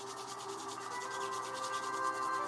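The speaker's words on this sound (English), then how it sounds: "And then you can rub your palms together again. Maybe faster this time." Two palms rubbed briskly together in a quick, even back-and-forth rhythm, a soft dry swishing heard up close and quietly with no voices.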